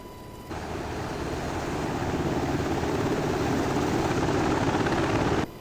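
An UH-60L helicopter taxis in a flight simulator game, a steady loud rotor and engine drone that rises slightly in level and then stops abruptly.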